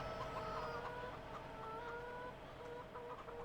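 Farm chickens in a farming video game cluck softly and repeatedly amid a constant background hum, a rooster among them, no voices present.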